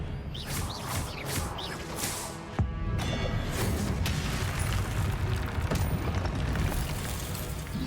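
Spell blasts and explosions from combat in the video game Hogwarts Legacy, a dense, continuous barrage of booms and whooshing bursts with a sharp impact near the middle, loud throughout.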